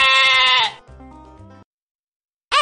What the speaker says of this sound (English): Make a sound like a sheep. A sheep says, baa.